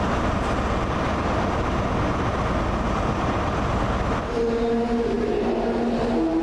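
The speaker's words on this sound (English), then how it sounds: "Here comes an HST operating to London King's Cross. Just coming into platform 20." A diesel High Speed Train bound for London King's Cross rumbles loudly close by into platform 20 at Edinburgh, a broad steady roar with rail noise; near the end a tonal engine drone rises as it pulls in.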